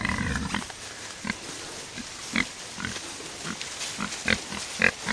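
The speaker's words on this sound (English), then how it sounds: "Yeah, this is some of the happiest pigs you're ever going to want to see." Pigs out in a muddy farm pen grunt in short, scattered bursts at moderate distance, spaced irregularly over a steady outdoor background.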